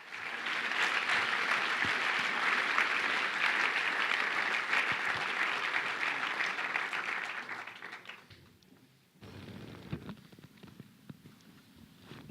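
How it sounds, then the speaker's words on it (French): An audience applauds the four Célestine prize jury members at a festival closing ceremony, sustained dense clapping for about eight seconds that then fades, leaving quieter room noise with a few scattered sounds. "j'aimerais, mesdames et messieurs, que nous applaudissons les 4 membres du jury du prix Célestine"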